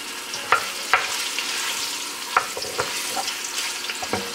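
Pork sizzles in a pan over medium heat, a steady hiss of frying broken by sharp pops and spatters recurring every half second or so, close and moderately loud with no talking.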